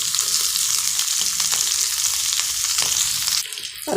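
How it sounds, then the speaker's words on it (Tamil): Onion, tomato and green chilli sauté in a hot pan, a steady loud sizzle with a few soft stirring scrapes, easing briefly near the end before surging again. "நம்மளுடைய வெங்காயம் தக்காளி பச்சை மிளகாலாம் நல்லா வதங்கி"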